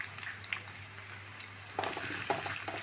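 Coconut pieces, fennel seeds, garlic and ginger frying in a pan for a Kerala clam meat dish, a quiet, steady sizzle with light stirring clatter that grows busier toward the end, no talking.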